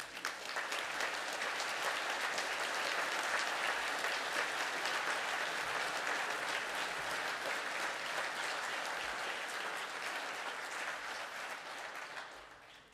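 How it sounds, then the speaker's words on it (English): A graduating class is applauded at a university ceremony, with a large hall full of people clapping steadily for a long stretch before the sound gradually fades toward the end. "Can the class please stand for their round of applause?"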